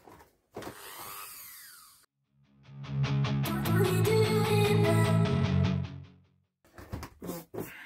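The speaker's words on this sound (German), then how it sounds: "kann man dadurch sehr gut mit den Bohrer ein bisschen vergrößern, weil der Kunststoff relativ weich ist" Power drill widening pre-drilled holes in soft plastic, heard as a rising whir that winds up into a loud, steady buzzing grind for a few seconds, framed by shorter bursts of motor noise before and after.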